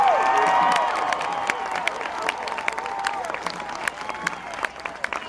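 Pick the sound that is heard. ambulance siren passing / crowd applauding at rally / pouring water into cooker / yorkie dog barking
crowd applauding at rally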